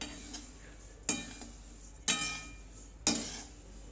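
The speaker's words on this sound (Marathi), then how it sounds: "या ठिकाणी आपण तीळ भाजून घेणार आहोत" Sesame seeds being dry-roasted in a pan over slow-medium heat, with a spatula scraping and stirring in four sharp strokes about a second apart, each followed by a faint rustle of seeds; no talking.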